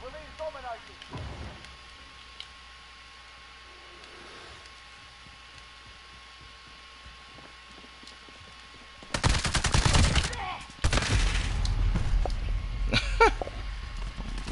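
Shotgun gunfire in the Call of Duty Modern Warfare beta game: after a long quiet stretch, loud close blasts burst out, a dense cluster followed by further heavy shots and rumbling action.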